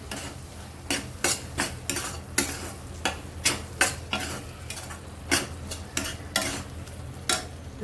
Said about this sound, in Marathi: यामध्ये थोडीशी हळद टाकणार आहे. छान मिक्स करून घेऊया.